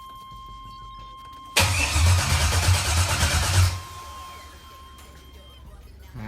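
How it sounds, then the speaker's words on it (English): A 5.3 LS engine swapped into a 1978 Chevy C truck cranks and fires with a loud, close rumble for about two seconds, then drops away to a quiet background hum. "So I'm gonna go ahead and crank it over so you guys can hear it."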